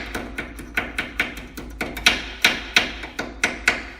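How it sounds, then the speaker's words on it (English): Repeated sharp metallic hammer taps strike in a steady rhythm, about a dozen close-up blows, tapping rear brake hardware clips into place on a 2002-2010 Ford Explorer. "So I'll hammer them on until they bottom out"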